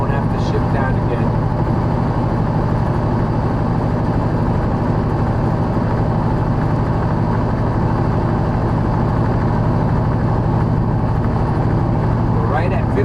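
A heavy truck engine pulls steadily uphill at about 1,500 RPM on a mountain grade at Sam's Gap, Tennessee, making a continuous, loud, low droning rumble that holds even and unbroken from start to finish.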